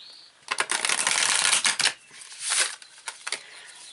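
Tarot cards being shuffled by hand up close, with bursts of papery riffling and flicking that pause and restart several times.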